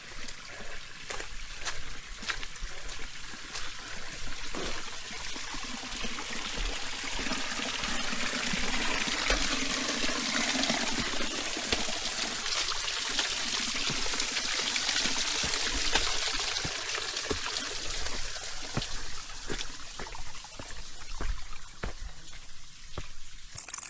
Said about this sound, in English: Oh, there's multiple waterfalls.